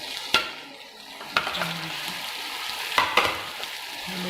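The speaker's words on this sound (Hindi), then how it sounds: "साथ में इसके डाल देंगे चिकन।" Chicken pieces hitting a hot pan of spiced oil for chicken palak, with steady sizzling and frying punctuated by a few sharp spoon scrapes and stirring knocks, close and alone.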